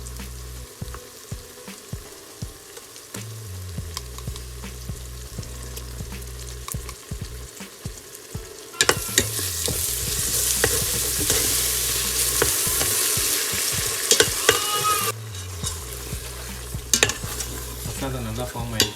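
Masala for mutton biryani sizzling in hot oil after curd is added, with steady frying crackle and repeated spoon stirring scrapes, the sizzle flaring louder partway through before settling back.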